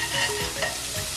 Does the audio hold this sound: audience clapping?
no